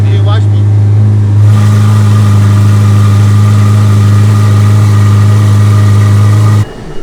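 A car engine starts with a quick cranking burst, then settles into a loud, steady, deep drone held at a raised idle before stopping abruptly, with voices faintly audible.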